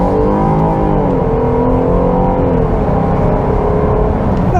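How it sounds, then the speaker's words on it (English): Engine of a 2022 Jeep Grand Cherokee mid-size SUV accelerating hard, a loud, steady drone whose pitch climbs gradually as it pulls, close and continuous with no talking. "But good acceleration."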